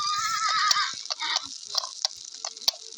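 A horse in the video game 99 Nights in the Forest whinnies in a bright, wavering call over game sounds, followed by short clicks and scattered effects.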